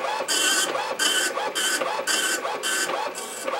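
A loud printer hooked to an Amiga 1000 chatters through lines of text, harsh buzzing print-head passes in a steady rhythm of about six bursts separated by short pauses, close and alone.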